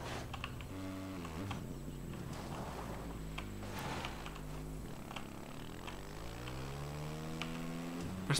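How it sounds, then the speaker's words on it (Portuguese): A motorcycle engine in the video game Ghost Recon Breakpoint sputters and revs, its pitch repeatedly climbing and dropping in uneven bursts over several seconds, close and steady with no talk. "Parece barulho de peido do motor da moto."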